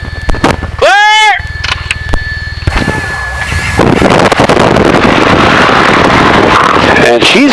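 A light aircraft engine cranks with a rising whine, coughs, then catches and settles into a loud continuous roar with heavy wind buffeting as it runs up on a test flight; a voice speaks briefly early on.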